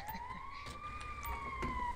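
Wailing emergency siren of an ambulance passing nearby, a continuous rising and falling tone that stays loud throughout, with faint street noise underneath.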